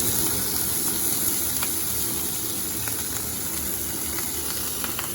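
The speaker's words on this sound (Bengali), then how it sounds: "দেখো একটু জিরে আর একটা কাঁচা লঙ্কা ফোড়ন দিয়েছি।" Cumin seeds and a green chilli temper in hot oil, a steady bright sizzle and hiss with small pops, heard up close and continuous, with no one talking.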